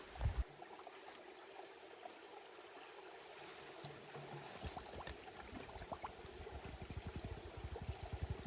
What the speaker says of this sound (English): get some fresh water at this stream